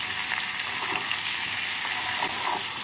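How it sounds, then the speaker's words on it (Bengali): Vegetables sizzle and fry steadily in a pan while being stirred with salt and turmeric, a continuous loud hiss with soft scraping of the stirring, no voices. "নুন আর হলুদ দিয়ে সবজিগুলোর সাথে মিশিয়ে নিচ্ছি।"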